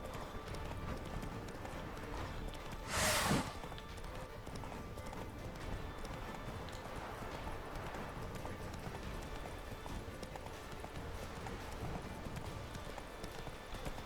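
Hoofbeats of a horse in the Witcher 3 game, a faint low patter running throughout beneath a quiet background, with one brief louder burst near the start.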